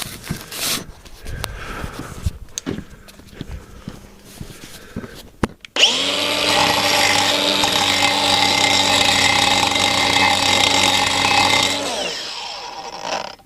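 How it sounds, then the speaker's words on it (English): An angle grinder fitted with a concrete grinding disc follows a few seconds of shuffling and handling, then spins up and grinds on a concrete slab in a loud, steady, high-pitched whine that runs about six seconds before winding down. "Here we are, concrete grinding disc. I'll just do a quick bit on a slab now."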